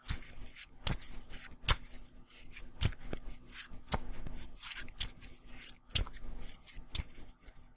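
Sleeved cards for the Pathfinder Adventure card game shuffled by hand, a close, soft run of repeated riffling and sliding plastic rasps with sharp taps between them, steady and quiet.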